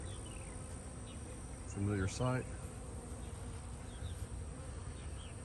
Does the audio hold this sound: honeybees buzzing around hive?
yes